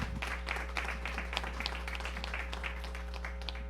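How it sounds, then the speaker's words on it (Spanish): An audience at a university union event applauds, a dense patter of many hands clapping steadily at moderate distance over a low electrical hum. "un aplauso"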